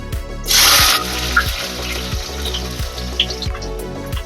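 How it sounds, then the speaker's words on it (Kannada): Onions hit a hot pan for khichdi with a sudden loud hiss, then settle into a steady sizzle and crackle under regular soft thumps of stirring. "ಈರುಳ್ಳಿ ಹಾಕ್ಕೊಂಡು ಫ್ರೈ ಮಾಡ್ಕೊಂಡು ಹಸಿ ವಾಸನೆ ಹೋಗೋವರೆಗೂ ಚೆನ್ನಾಗಿ ಫ್ರೈ ಮಾಡ್ಕೋಬೇಕು"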